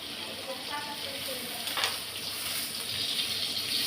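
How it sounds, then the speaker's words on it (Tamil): Tomato sautéing in a pan with turmeric powder, giving a steady close sizzle and frying hiss with light stirring scrapes throughout. "கொஞ்சம் வதக்கிக்கிடலாம்."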